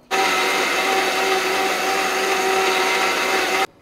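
A mixer grinder jar grinds fried spices for vegetable sambar, a loud, steady whirring roar that starts abruptly, holds evenly for about three and a half seconds, then cuts off, with no voices.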